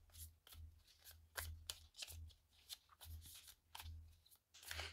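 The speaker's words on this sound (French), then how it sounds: "On va le mélanger un petit peu vu que je ne l'ai pas encore mélangé." An oracle card deck being shuffled by hand, giving repeated soft riffling and slapping bursts in quick succession at close range, with no talking over it.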